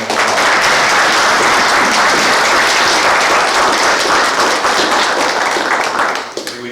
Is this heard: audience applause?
yes